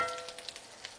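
Eggplant slices fry in a pan for a keto eggplant parmesan, giving a faint, soft, steady sizzle with small crackling pops.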